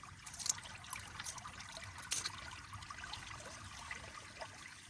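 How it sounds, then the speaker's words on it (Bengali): Rainwater flows steadily through a channel at a rural fishing spot during the rains, a soft continuous trickle and gurgle with occasional brighter splashes, fairly quiet and unbroken by voices. "প্রচুর পানি আসতেছে"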